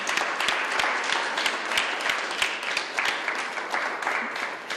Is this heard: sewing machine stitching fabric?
no